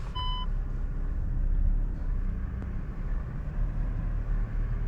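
An automatic car slowly reversing, its steady reversing beeps sounding briefly near the start over a continuous low engine and road rumble, with no talk.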